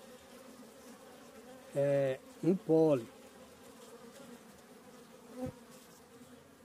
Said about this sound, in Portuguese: Olha como tá chegando a abelha.